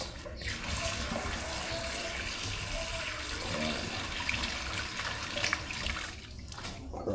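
Tomatoes are washed under a running kitchen tap, giving a continuous close rush and splash of water that stays steady for the whole stretch.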